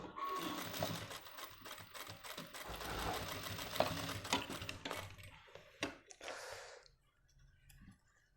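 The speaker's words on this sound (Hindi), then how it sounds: "इस तरीके से निशान लगा के और एक सिलाई मार देंगे।" Sewing machine stitching a Nehru jacket, a rapid clattering run of stitches for about six seconds, close and fairly loud, then stopping and fading into quiet handling sounds.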